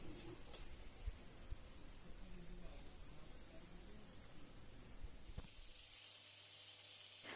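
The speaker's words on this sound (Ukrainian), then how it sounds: "Для начинки у мене вже обсмажується цибулька та печінка." Onion and liver frying in a pan as filling for steamed varenyky, a steady close hiss and sizzle running throughout, dropping to a quieter, thinner hiss near the end.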